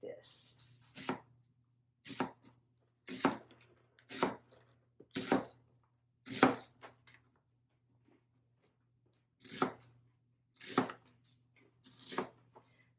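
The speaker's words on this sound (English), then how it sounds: "red onion and slice it" A knife slices through a red onion on a cutting board, giving about ten crisp, separate cuts in short bursts with pauses between them, up close, alone over a faint steady hum.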